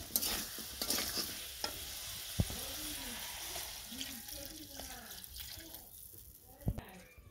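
Spiced egg curry sizzles and frying in a pan as water goes in, with a spoon stirring and scraping through the gravy in a village kitchen; close, steady bubbling with scattered clinks and a faint voice.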